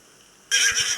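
A horse neighs in a Roblox obby game, a loud whinny bursting in suddenly halfway through after near silence and carrying on to the end.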